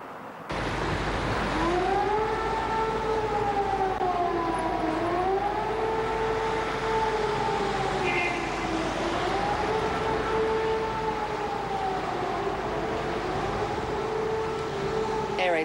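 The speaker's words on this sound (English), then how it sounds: "Air raid sirens were heard across Baghdad a short time ago." A wailing air raid siren in Baghdad during the Gulf War rises and falls steadily for a long stretch, carrying from a distance over a low background rumble.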